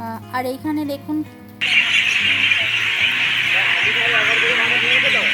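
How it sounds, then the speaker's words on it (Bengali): A flock of birds chirps and squawks noisily at a riverside temple site, a dense, continuous chatter that starts abruptly after a brief stretch of someone talking. "পাখির কিচিরমিচির আওয়াজে মানে আমরা আমাদের কথা শুনতে পাচ্ছি না"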